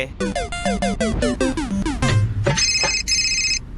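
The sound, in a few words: phone ringtone, call not answered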